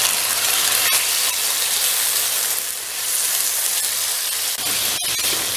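Chicken sizzles loudly with garlic in a hot pan, a dense, steady hiss of frying close up, broken by a few brief clicks and scrapes and no talking.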